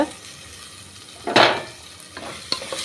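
Chopped tomato sautéing with ginger garlic paste and salt in a pan for coconut milk rice, a low steady sizzle broken by one loud scraping stir and a few lighter spatula scrapes.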